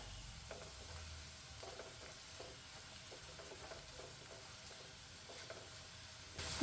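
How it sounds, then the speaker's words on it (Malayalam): Ginger, garlic and green chili sizzle steadily in a hot pan as a Kerala-style chicken pickle is made, with a continuous close frying hiss broken by a few soft stirring scrapes and a brief louder bump at the end. "ഇഞ്ചിയും വെളുത്തുള്ളിയും പച്ചമുളകൊക്കെ മൂപ്പായിട്ടുണ്ട് കേട്ടോ"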